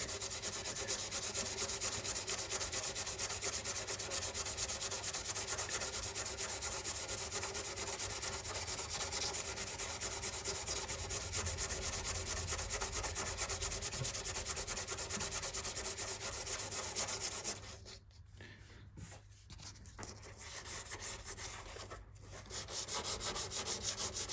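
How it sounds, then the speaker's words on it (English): Steady, continuous hand sanding with sandpaper on rusty bodywork of a Mazda MX-5 NC Mk3, a close, loud scratchy rubbing that goes on unbroken for most of the stretch, briefly easing off near the end before resuming. "You don't have to use big bits of sandpaper because you don't want to catch your paintwork."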